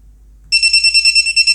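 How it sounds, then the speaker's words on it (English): After a moment of quiet, the buzzer on a TBS Unify Pro32 HV video transmitter starts beeping rapidly, a loud, high-pitched pulsing tone repeating in quick, even bursts close by. "Deactivate my buzzer."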